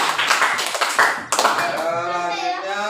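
Students clap in a brief burst of quick, close claps that stop suddenly. A voice speaks right afterward.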